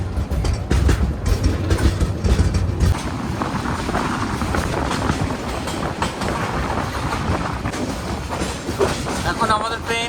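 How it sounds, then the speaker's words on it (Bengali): A Chittagong–Dhaka train pulls into Nangalkot station, heard from inside a coach as a steady rumble with rhythmic clickety-clack of wheels on the rails and a faint chatter of voices. "এখন আমাদের ট্রেন এন্ট্রি করছে নাঙ্গলকোটে।"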